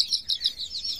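High, rapid chirps repeat in quick bursts, like small chicks peeping steadily nearby with no talking.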